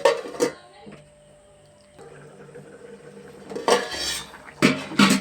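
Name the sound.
lid being put on a cooking pot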